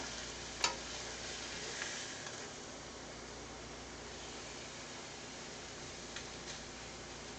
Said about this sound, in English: I think we're just going to do a full-on fry for these.